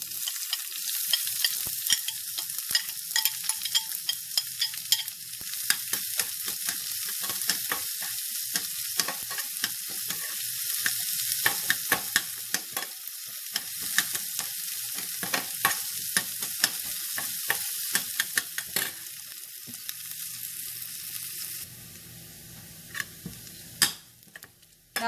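Shallots and curry leaves frying in hot oil for a sweet mango curry, a dense crackling sizzle with rapid popping and occasional stirring clicks, easing off near the end.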